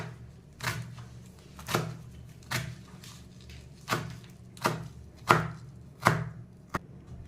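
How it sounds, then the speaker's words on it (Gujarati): A knife chops spinach thinly on a board in a kitchen, making about eight sharp, evenly paced cuts that land close and clear, with no talking. "તો આવી રીતે આપણે પતલી બધી પાલકને સમારી લેવાની."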